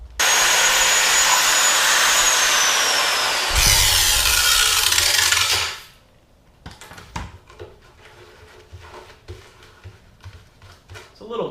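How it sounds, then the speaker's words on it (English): An angle grinder cuts into hardened bulletproof target steel with a loud, harsh continuous screech that shifts pitch partway and then stops abruptly, followed by scattered clanks and handling noises. "I thought I'd just be able to grind right through it"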